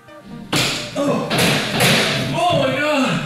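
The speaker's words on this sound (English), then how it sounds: "I hit my head when I jumped up and straight." A sudden dull thud as a person hits their head on landing during a failed backflip attempt, a loud impact followed by scuffling movement and nearby groaning voices.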